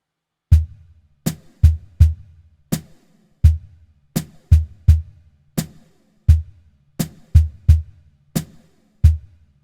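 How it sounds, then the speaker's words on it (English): A steady drum groove from a stomp drum pedal, punchy low kick-like thumps with sharp slaps on top and no hi-hat, repeating at an even mid tempo with no other sounds. "you're getting a full-on drum groove there"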